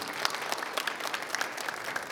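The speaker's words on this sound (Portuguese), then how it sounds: "Eu convido você a dar uma grande salva de palmas à palavra do Senhor." A church congregation claps together after a Bible reading during a Portuguese-language sermon, a dense burst of applause with crisp individual hand claps heard close and continuous.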